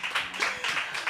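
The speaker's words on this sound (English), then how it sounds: "Yes, a round of applause for them." Audience round of applause at a studio event, a brief burst of hand clapping with a loose, uneven rhythm, heard fairly close.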